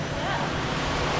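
Kerta Gangga waterfall on Lombok pours into a natural rock pool with a steady, loud, broadband rushing roar, close and continuous with no pauses.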